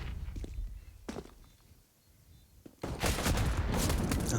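Gunfire in Counter-Strike during an esports match: a few sharp isolated shots, a brief lull, then a dense loud burst of rapid firing and game action.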